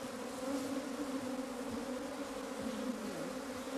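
Honeybees swarming around an opened hive, a dense continuous buzzing drone with shifting pitch as individual bees pass close, steady and moderately loud, with no talk.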